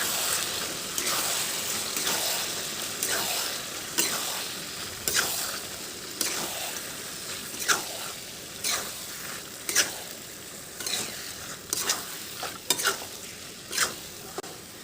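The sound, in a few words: goat meat frying on high flame, being stirred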